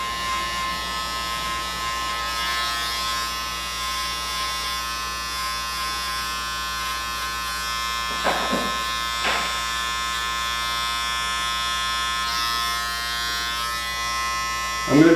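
Wahl Five Star Senior adjustable-blade electric hair clippers running with the lever open, a steady close buzzing drone throughout, with a couple of brief sharper bursts as the blade works into hair.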